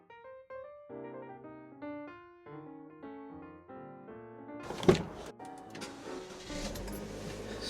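Vauxhall Mokka engine starting up after a series of electronic chimes: a sharp crank and catch, then the engine settles into a steady running rumble nearby.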